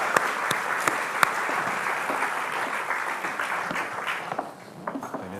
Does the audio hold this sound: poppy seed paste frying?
no